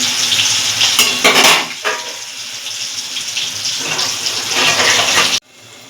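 Potato pieces fry in oil in a pan on medium heat, a loud, steady sizzle with brief bursts of stirring clatter, cutting off abruptly near the end; no talking.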